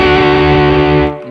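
An electric guitar plays through an Xotic BB Preamp Comp pedal in comp mode: a single sustained, distorted chord rings loud and even, then is cut off abruptly near the end.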